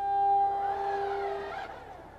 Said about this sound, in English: That sound was the motor syncing back up.